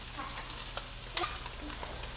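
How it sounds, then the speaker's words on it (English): Trout fillet pan-searing for a golden crust gives a steady, soft sizzle close by, broken by a few light clinks and stirring knocks, with no talking. "So all we're doing to the trout is just pan searing it."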